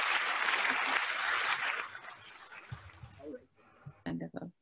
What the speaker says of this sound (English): Well, I'll do the applause.